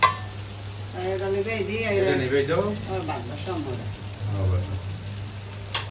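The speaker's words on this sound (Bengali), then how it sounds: "এই যে করলা করলাটা একটু বাজি হইবে" Bitter gourd frying in a pan, giving a continuous moderate sizzle that runs beneath a person talking for most of the stretch.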